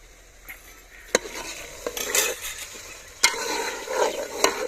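Beef pieces stir-fried in a pan for a cut-meat curry (katay ka salan), with a steady low sizzle broken by sharp spatula clinks and scrapes against the metal, close and moderately loud, no talking.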